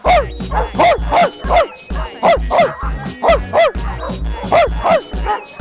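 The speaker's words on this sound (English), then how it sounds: "Why is it so many dogs?" Several dogs in Greece bark loudly and repeatedly at close range, a rapid, rhythmic run of sharp barks and yips continuing throughout with hardly a pause.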